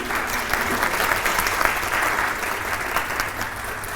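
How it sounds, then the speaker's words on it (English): A symposium audience claps for a panel of women's wellness experts, producing a brisk, full burst of crowd applause that stays loud and even throughout its four seconds. "let's have a big round of applause for my panel here"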